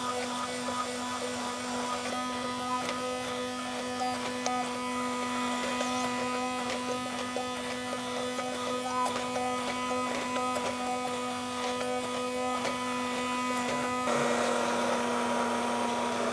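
A blender grinds ingredients for pasta with a continuous buzzing motor whine, and its pitch and texture shift near the end as the mixture changes.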